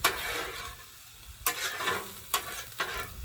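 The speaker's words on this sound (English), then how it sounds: "Bring the peppers over and mix it all, and the onions, and mix it all up." Peppers, onions and a bun frying in grease on a Blackstone griddle: steady sizzling with a few sharp scraping stirs of a spatula, close and loud, no talking.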